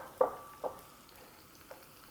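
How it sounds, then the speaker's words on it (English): Prawns sizzle in a hot frying pan. Fast, close pops and crackles come in a couple of sharp bursts over a soft, steady hiss, with no talking. "Oh, look at that sizzle."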